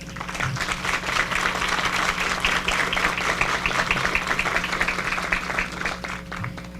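Applause at the opening of a forum on domestic work, welcoming a senator, a moderate, fairly even round of clapping in a hall with a low steady hum beneath.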